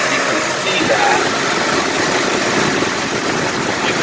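A 2007 Honda Pilot engine idling during an oil check with an Amsoil bypass filter fitted, giving a steady, even hum with no revving.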